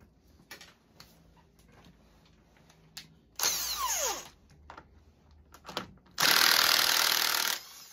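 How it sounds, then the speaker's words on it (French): Work on the pinion of a Panhead chopper clutch: scattered light metallic clicks and taps, then two loud close bursts of a powered tool spinning, the second lasting over a second before stopping. "Je vais mettre de la loctite et remettre le pignon."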